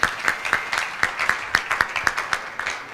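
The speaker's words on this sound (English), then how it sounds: "Let's give him a clap." A small audience at a 2023 SME roundtable discussion claps for a speaker, distinct sharp claps in an uneven rhythm rather than a dense roar, fairly close and lasting about three seconds.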